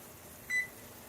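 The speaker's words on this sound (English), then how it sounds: "my timer is about to go off" A kitchen timer set while cooking beans on the stove gives one short, thin electronic beep partway through, otherwise quiet background.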